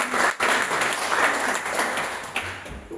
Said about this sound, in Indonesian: kasih tepuk tangan lagi ya